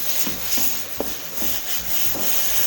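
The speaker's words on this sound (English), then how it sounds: "So you just come back and you sand it down." Drywall being sanded by hand to smooth imperfections, with steady rhythmic rubbing strokes that repeat about twice a second, close and alone.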